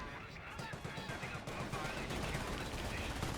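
Twin German machine guns rattle in sustained bursts during a Company of Heroes match, dense overlapping gunfire filling the battlefield with a steady, loud clatter throughout.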